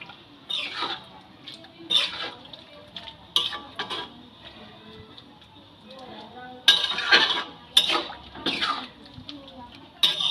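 A spoon stirs cauliflower stalks into masoor dal in a pot, making repeated scraping strokes and light metallic clinks in an uneven rhythm, soft but close.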